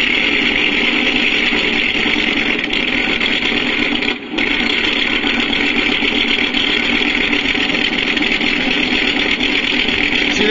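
An MrRCSound V4 engine sound module for an RC vehicle plays a loud, continuous idling engine rumble that holds steady throughout, with one brief dropout partway through.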